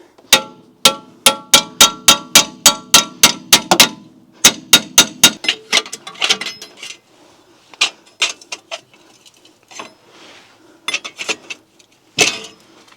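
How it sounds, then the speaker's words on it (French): A hammer drives a chisel against a glued part on a high-mileage Jeep. A fast, even run of ringing metallic strikes comes first, then a short pause, another burst, and sparser, irregular knocks and clinks. "Marteau burin, tu prends sur les angles et ça sort tout seul."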